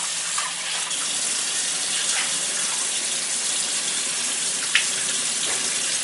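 Tap water runs steadily into a bowl while rice is washed in a kitchen, a continuous close hiss with faint splashes and a brief louder slosh.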